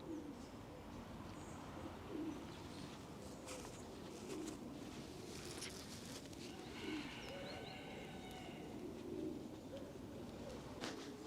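Racing pigeons coo in a loft, repeated soft low rolling calls in a slow rhythm over a steady background hum, with faint chirps mixed in.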